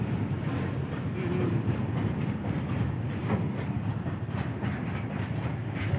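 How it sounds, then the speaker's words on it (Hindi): A freight train rolls past Nirmali railway station, a steady loud rumble of wagons with faint rhythmic clatter throughout, no voices. "माल ट्रेन अभी पास हो रहा है निर्मली रेलवे स्टेशन से"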